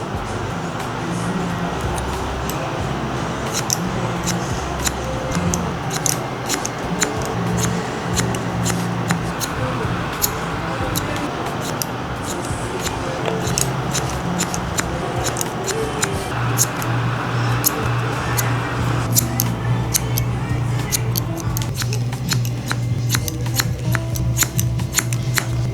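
Barber scissors cut hair during a low taper mullet haircut, a run of quick crisp snips ticking close up over a low background hum, with bursts of faster clipping.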